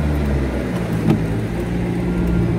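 A manual car's engine held at steady, raised revs while stopped on a garage ramp with the clutch in, a continuous loud drone close by with no speech.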